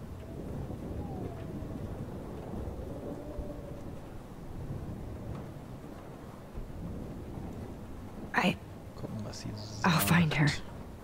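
A thunderstorm in Life is Strange rumbles low and steady under rain, with a couple of sharper cracks near the end; a voice murmurs faintly beneath it.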